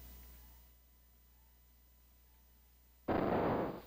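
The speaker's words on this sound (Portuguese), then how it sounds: "Vamos testar a explosão primeiro." A single burst of video game explosion sound effect in a Python Space Invaders game suddenly erupts after about three seconds of quiet hum, loud and sustained until the end.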